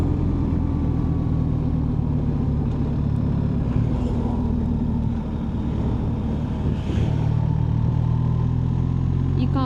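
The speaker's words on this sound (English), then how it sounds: "Oh, we've got a lorry doing an overtake." A lorry overtakes on Georgia's Military Road, its engine drone blending into steady wind roar and the rider's own motorcycle engine as it passes close by.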